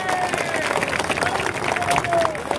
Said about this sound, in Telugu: దానికి ఒకసారి గట్టిగా చప్పట్లు కొట్టాలి వాళ్ళందరికీ.